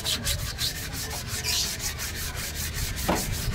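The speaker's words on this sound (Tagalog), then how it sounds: "Lilihain nyo din para matanggal yung mga kalawang." Hand sanding of rust off a car handbrake lever gives rhythmic, gritty back-and-forth scraping strokes, close and steady, with no talk.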